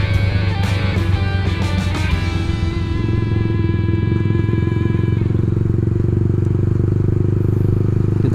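Yamaha R15 v2 motorcycle fitted with a racing exhaust, a loud, steady close-up engine drone with raspy harmonics, pitch easing slightly partway through, running continuously without talk.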